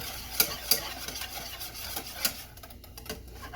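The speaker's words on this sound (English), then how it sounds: "adding the flour and whisking it, making it smooth, blending it in until you get it to the consistency that you want it" A whisk beats flour into pan drippings for gravy, with quick rhythmic scraping and clicking against the pan over a low sizzle, close and fairly quiet.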